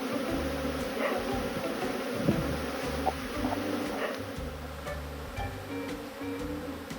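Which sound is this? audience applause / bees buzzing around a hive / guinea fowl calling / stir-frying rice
bees buzzing around a hive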